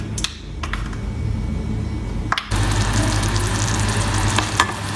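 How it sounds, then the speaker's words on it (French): Butter, sugar and acacia honey melting together in a pan, a steady close sizzle with occasional clinks and scrapes of a utensil, the bubbling growing louder and denser partway through. "Je vais faire fondre le beurre, le sucre"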